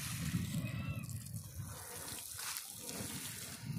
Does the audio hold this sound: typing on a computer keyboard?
no